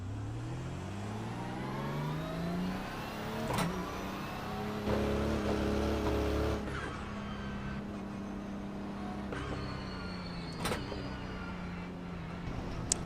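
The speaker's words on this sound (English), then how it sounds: "I will say the Mustangs in iRacing sound pretty damn good" A Ford Mustang GT3 race car in the iRacing sim, engine rising and falling through gear changes as it runs close behind, a loud mechanical drone with rising pitch sweeps and no talking.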